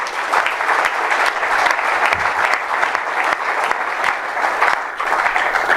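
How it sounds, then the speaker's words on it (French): An audience at a Congolese revival church gathering breaks into steady, dense applause, a continuous bright wash of many hands clapping for the full stretch without a break. "Est-ce qu'on peut acclamer d'abord pour ça?"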